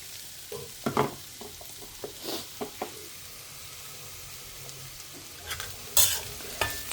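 Vegetables sizzle in a pan as their moisture cooks off, giving a low frying hiss broken by repeated scraping stirs of a spatula against the pan, close by and without speech.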